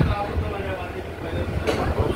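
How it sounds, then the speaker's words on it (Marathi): A crowded local passenger train pulls away on a rainy day, with a steady rumble of wheels and carriage noise, a brief sharper rattle near the end, and people talking in the background. "आता आपली ट्रेन सुटले"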